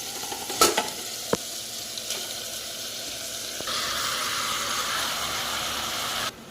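Marinated chicken hits hot oil in a pan for home-style chicken biryani, giving a sharp clatter and then a steady, loud sizzle that swells and holds for several seconds before cutting off.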